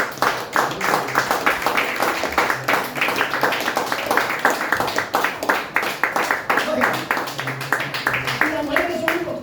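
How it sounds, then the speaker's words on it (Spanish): A church congregation applauds during a sermon on biblical redemption, with rhythmic clapping running throughout and voices over it, fairly close and steady. "Den el aplauso al Señor."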